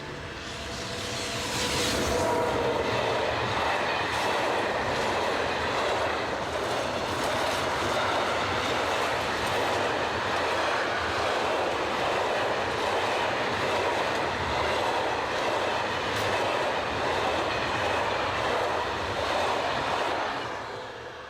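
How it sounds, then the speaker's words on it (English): French BB26000 electric locomotive 26056 hauls a train south through the Rhone Valley, a loud, sustained rolling rumble with rhythmic wheel clatter that swells early and holds steady as it passes, with no voices. "Our next section begins with 26056 heading south through the Rhone Valley on the 13th of June 2000."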